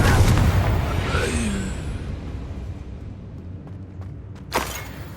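A Confringo blasting spell in Hogwarts Legacy bursts with a loud booming explosion at the start that rumbles and slowly fades, followed by a brief sharp crack near the end.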